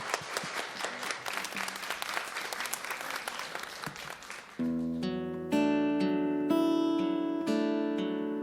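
An audience at a year-end book concert breaks into sustained applause, a dense wash of clapping for several seconds before a piano begins playing sustained chords that take over.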